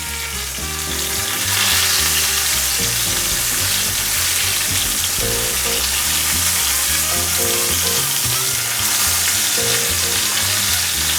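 Garlic and rosemary sizzle and fry steadily in a hot pan while cooking a Valentine's Day wagyu dinner, a loud continuous crackle that stays even throughout with no talking.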